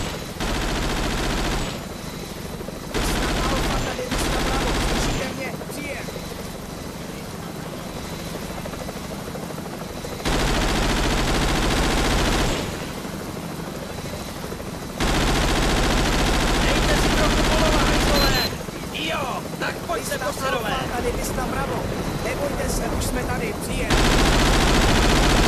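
Automatic gunfire rattles in the Vietnam War shooter Vietcong, loud bursts recurring across the scene alongside a droning helicopter and other battle noise, with voices calling out between volleys.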